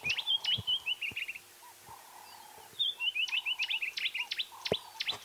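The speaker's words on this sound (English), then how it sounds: "I'd say that was a green-backed bleating warbler. I think that's what it is, actually." A green-backed camaroptera, also known as the green-backed bleating warbler, calls on a sunrise safari: two runs of rapid, sharp chirping notes over soft bleating tones, loud and near with a brief pause between the bursts.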